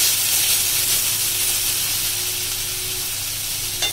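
Spice masala sizzles in hot oil as it is sautéed, a loud, even, hissing fry that holds steady from start to finish, with a faint stir near the end and no voices.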